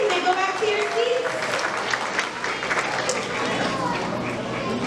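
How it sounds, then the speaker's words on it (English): Clapping fills a first-grade awards ceremony as an audience applauds students for perfect attendance, a dense burst of many hands mixed with children's and adults' voices and the bustle of kids moving. "another round of applause for our perfect attendance for Lord E"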